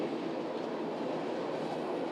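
A long freight train rolls past in a small town on a state line, giving a steady, continuous rumble at moderate distance with no voices over it.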